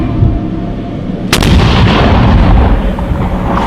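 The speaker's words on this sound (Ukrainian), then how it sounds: "Постріл!" A single loud, booming gunshot cracks out and then rumbles away in a long, heavy echoing tail.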